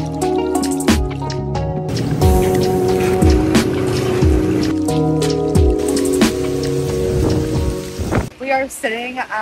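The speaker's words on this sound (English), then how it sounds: "You can see all the rain." Heavy rain pours steadily at a Cancun resort, a dense, loud, continuous wash with dripping and splashing on hard surfaces throughout, and a faint voice briefly near the end.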